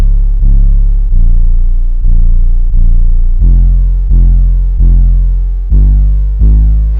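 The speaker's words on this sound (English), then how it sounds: "this is what the 808 sounds like" A loud, heavily clipped and distorted 808 bass plays alone in a beat, about ten booming notes in steady succession, each with a sharp attack and a gliding, decaying tail.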